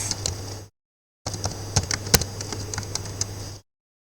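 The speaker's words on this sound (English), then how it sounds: "Now here you will type pip install pandas" Keystrokes on a computer keyboard tap out a short command in quick, irregular bursts, close and clear, with a brief silent gap partway through.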